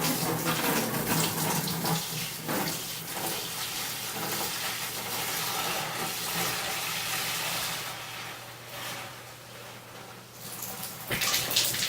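Water runs steadily out of a tap, a loud continuous splashing rush for about twelve seconds with a slight change in flow near the end.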